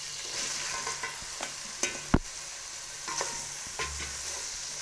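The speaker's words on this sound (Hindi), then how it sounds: "अब हमने डालना है इसमें प्याज" Onions added to a pan of melted tomatoes and masala fry and sizzle, with a steady hiss and occasional stirring scrapes and clinks of a spoon against the pan, fairly quiet and close.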